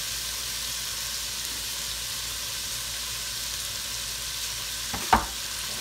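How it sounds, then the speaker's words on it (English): Bell peppers frying in a pan for an oxtail stew, a steady soft sizzle running the whole time with one brief clatter near the end. "then I'm gonna add the bell peppers."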